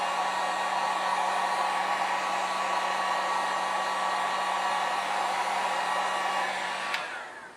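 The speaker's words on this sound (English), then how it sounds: "So I'll give this a quick dry with the heat gun." A heat gun blows steadily on a hobby model for several seconds. The hum is loud and even, then cuts off with a click near the end.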